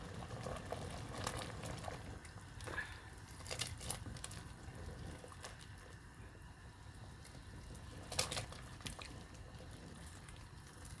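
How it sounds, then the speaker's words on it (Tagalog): Soup simmering at a rolling boil in a pot, a steady low bubbling and gurgling with scattered sharper pops, close and moderately quiet, continuous for the whole stretch with no voices. "Yan, kumukulo na ang ating sabaw."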